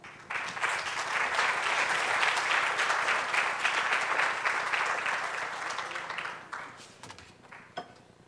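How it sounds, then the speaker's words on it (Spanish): A conference audience at a futures congress applauds Dr. Andrés Römer, a dense, sustained burst of clapping from many hands that swells, holds for several seconds, then tapers off toward the end. "déle un gran aplauso al doctor Andrés Römer."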